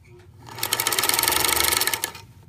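A sewing machine runs in a steady, fast stitching burst for about a second and a half while sewing a steek through knitted fabric under the presser foot, starting and stopping cleanly, close and fairly loud.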